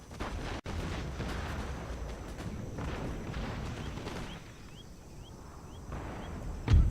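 Musket and artillery fire from a battle in the video game Empire: Total War, a dense continuous rumble of shots and booms throughout, with a louder burst at the end and no talk.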